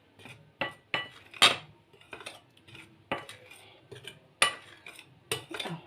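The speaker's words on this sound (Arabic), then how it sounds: "بس معلقه نقلب المكونات الجميله دي كلها مع بعض بالشكل ده كده." A spoon stirs marinated strip ingredients around a bowl, giving repeated close scraping clinks and wet mixing sounds in an irregular rhythm, several sharper metallic knocks standing out, with no talking.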